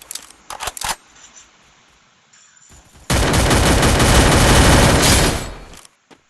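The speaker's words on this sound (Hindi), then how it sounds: "कौन गोलियां चला रहा है यार, मुझे बता।" Gunfire in a battle royale video game: a few sharp early shots, then a dense burst of rapid automatic fire lasting about three seconds, loud and close, with no talk.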